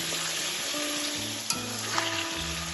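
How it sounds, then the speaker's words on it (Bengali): Chicken frying in oil as ginger and dried chili paste go into the pan, giving a steady close sizzle with bursts of stirring and a couple of sharp clanks from a utensil against the pan. "এখন আমি এর মধ্যে দিয়ে দেব আদা এবং শুকনো লঙ্কা পেস্ট"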